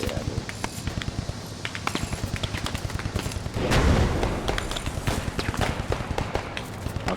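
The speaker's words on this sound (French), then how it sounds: "J'entends que ça tire à côté de nous là." Gunfire close by in the World War II video game Post Scriptum on the Carentan map, with scattered sharp shots and a louder burst of firing midway, under a busy background of game noise.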